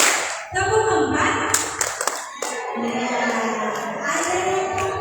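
An audience claps along in a counted clapping game at a job fair in a hall in Magelang. A few scattered, short claps sound under a steady wash of voices and crowd noise.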